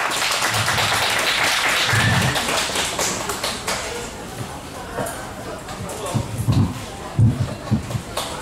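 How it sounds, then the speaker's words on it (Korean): An outdoor oyster-festival audience in South Korea claps together, a short burst of applause near the start that fades under a performer's talk, followed by a few scattered claps and thumps. "열심히 잘 치라고 다 같이 박수 한번 주세요."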